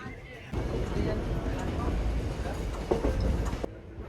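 The Sealdah–Jangipur Express runs over the main line near Bandel Junction with a steady, close rumble and clatter of wheels on rails. A faint clank sounds near the end, and a voice talks beneath the noise.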